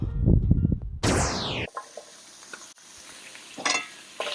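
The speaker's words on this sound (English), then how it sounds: "I do the onions that are browning over here" Onions browning in a pan for beef stroganoff, cooked after steak, give a brief loud burst of stirring and sizzling, then settle into a low, steady frying hiss with scattered clinks.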